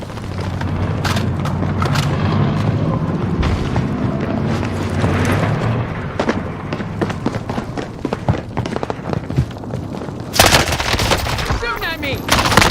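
Gunfire in a video game: dense bursts of automatic shots and booms rattle on nearly continuously, close and loud, with a sharp louder blast near the end and a player's voice talking over parts of it.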